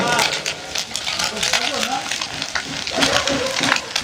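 Small puti fish frying in mustard oil, a steady crackling sizzle with spitting pops running beneath a person talking throughout.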